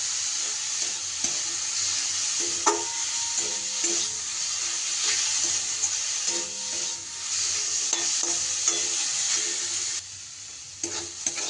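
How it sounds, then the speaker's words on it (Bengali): Grated winter vegetables with salt and turmeric fry in a pan under a steady hissing sizzle, punctuated by repeated spatula scrapes and taps as they are stirred. "কিছুটা সময় সবজিটা একটু নাড়াচাড়া করে নিই"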